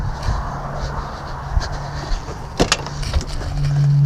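Power windows on a classic Ford F150 5.0 V8 pickup truck open, a low electric motor whine rising near the end after scattered clicks and knocks inside the cab.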